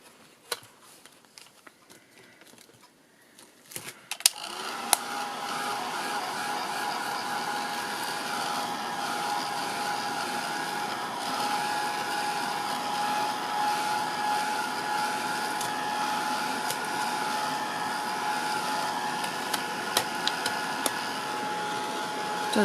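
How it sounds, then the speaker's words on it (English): A heat gun blasts hot air over strips of inky paper coated with gesso, starting after a few seconds of quiet rustling and then holding a steady, loud, broadband roar to the end. "I'll give it a quick blast with my heat gun."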